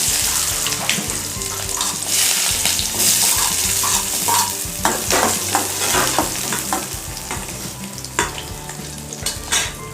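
Onion and fennel frying in a pan for a Tamil dish, a steady close sizzle with frequent stirring scrapes and clinks throughout, no talking.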